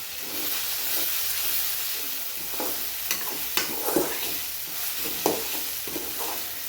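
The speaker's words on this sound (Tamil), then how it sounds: "தக்காளி நல்லா வதங்கணும்" Ripe tomatoes cut into quarters sauté in a pan for an egg semiya dish, giving a soft steady sizzle with a few brief stirring clatters and scrapes; no one speaks.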